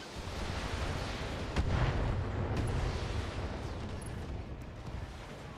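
Weapon fire in the video game BattleTech rumbles as a dense, continuous barrage of blasts and booms, steady and moderately loud throughout.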